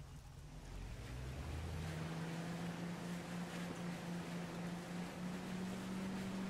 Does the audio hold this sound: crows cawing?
no